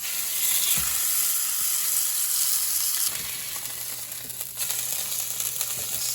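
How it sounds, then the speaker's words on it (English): Steaks sizzling as they are pan seared, a steady loud hiss of frying fat with a few clinks and a low hum joining partway through, no talking. "we are going to pan sear the steaks and then broil them"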